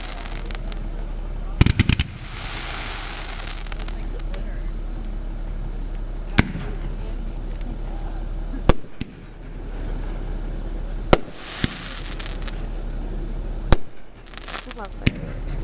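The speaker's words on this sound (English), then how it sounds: "I love fireworks so much." Fireworks at a New College 50th anniversary celebration, with a handful of sharp, distant bangs spaced out over a steady outdoor rumble and patches of crackling, while people chat nearby.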